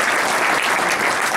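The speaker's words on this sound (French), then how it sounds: "On l'applaudit bien fort." Audience at a French fintech startup presentation applauding loudly, a brief dense burst of steady clapping from many people.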